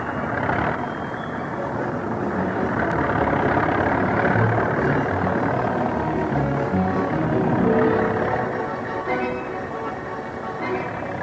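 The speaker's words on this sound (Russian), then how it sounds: "гулом мотором пошли жатки по бескрайнему озимому полю" Soviet collective-farm harvester swathers working a vast winter wheat field, their engines a steady, dense droning rumble that holds loud and continuous throughout, with no breaks or distinct events.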